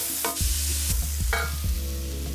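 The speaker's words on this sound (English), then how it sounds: "So I'm gonna put the garlic in, all that garlic, and we're gonna let that get some color on it too" Garlic sizzles in an oiled pan beside charred peppers, with a steady frying hiss broken by a couple of sharp spatula scrapes and knocks, close and fairly loud.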